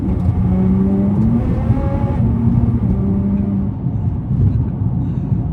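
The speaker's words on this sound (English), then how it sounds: "And we'll just give her a little acceleration." A Nissan GT-R gathers speed on a highway from about 80 km/h, its engine a steady loud rumble with rising pitch, heard alone from inside the car.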